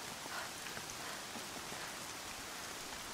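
Steady rain hisses softly and evenly throughout, game rainfall in Horizon Zero Dawn with no voices.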